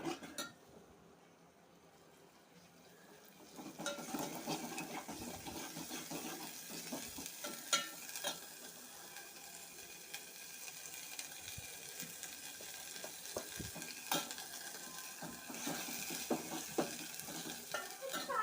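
Mutton curry with gongura leaves and mango pieces sizzles steadily in a pot while being stirred, with occasional scrapes and clinks of the spoon against the metal and no voices.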